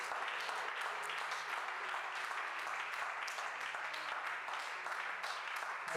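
A church congregation applauds in a dense, continuous round of clapping that sounds steady and fairly distant, lasting several seconds without a break.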